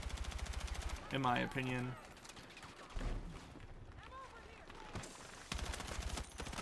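Gunfire in the Battlefield 6 beta video game, rapid automatic bursts at the start and end, loud and close, with someone talking over the quieter middle.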